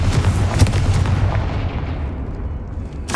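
A fiery blasting spell cast in the Hogwarts Legacy video game sends out a loud, rumbling explosion that thumps at the start, then rolls and fades into a low roar.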